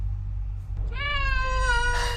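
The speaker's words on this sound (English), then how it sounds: "here they are, the Shayna cats" A cat lets out a single drawn-out, insistent meow that swells and fades over about a second, loud and close above a low background rumble.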